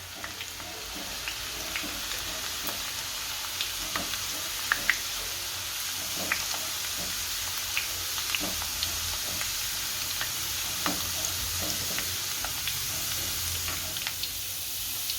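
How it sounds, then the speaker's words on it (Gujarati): Ingredients for farali chevdo fry in hot oil while being stirred, giving a steady, fairly quiet sizzle broken by scattered small clicks and pops. "બધી સીણ આમાં તળી લઈશું બહુ ફૂલ ન તળવાનું ધીમા ધીમા નાખવાનું"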